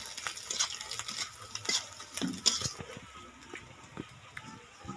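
Stirring a singi fish curry with turmeric and chilli powder in a pan, a few scraping strokes with light sizzling and clinks underneath, close and moderately loud, with some faint voice in the background.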